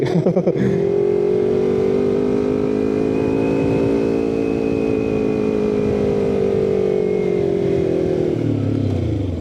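A Kawasaki Z250 motorcycle engine labours in first gear up a very steep mountain road near Phu Chi Fa, Chiang Rai, holding a loud, steady, slowly shifting drone close by for several seconds before easing off.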